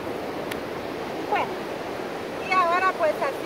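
Ocean surf at a beach at sunset, a constant broad rushing wash with a voice speaking briefly over it in a few bursts.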